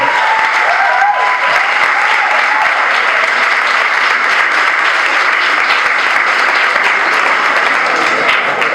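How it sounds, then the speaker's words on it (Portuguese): Sustained, dense audience applause fills a vocational gathering led by Moyses Azevedo in Rio de Janeiro, loud and even throughout with no voices on top. "Uma salva de palmas para você."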